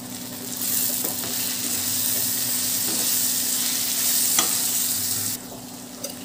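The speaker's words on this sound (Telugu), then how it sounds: "ఇవంతా కూడా బాగా ఆయిల్ లో మనకి మగ్గిపోవాలి" Crab curry fries in oil in a pan, giving a loud, steady broadband sizzle with a few faint stirring scrapes before it suddenly drops away near the end.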